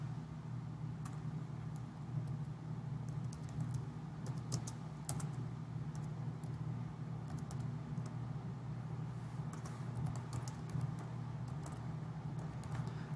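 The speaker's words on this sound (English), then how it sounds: "I'm just typing in my information." Typing on a computer keyboard, quick light key clicks in irregular bursts over a steady low hum of road traffic, near but quiet, with no talking.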